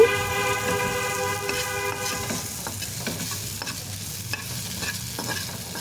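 Bitter gourd slices frying in a pan, a steady hiss of oil with scraping stirs throughout; a sustained tonal hum runs over the first half, then the sizzle continues alone, fairly close.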